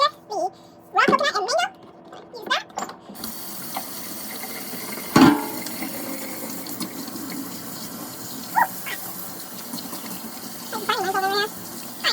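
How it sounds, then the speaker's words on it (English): A tap runs steadily into a sink during handwashing, a continuous rushing stream heard close, with a voice speaking over it at the start and end and a few clunks and knocks along the way. "I gotta wash my hands"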